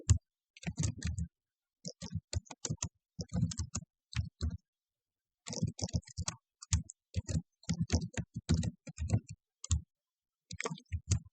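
Someone types on a computer keyboard while entering Python code, producing bursts of clicky keystrokes separated by short pauses. The sound is close and moderately quiet, with no talking.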